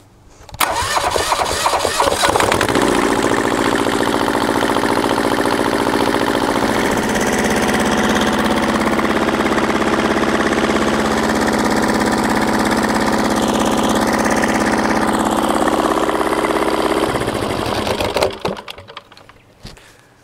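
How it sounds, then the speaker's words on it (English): A Caterpillar diesel engine cranks and starts, then runs steadily at a loud, even idle on straight diesel fuel while warming up, before cutting off near the end. "First, I'm gonna run it on straight diesel fuel just to warm it up."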